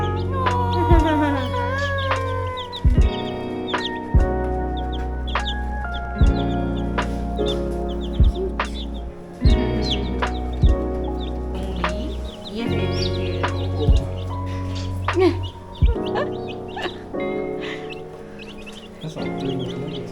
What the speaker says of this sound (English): Is it a chicken? Chicken. Yes, chicken.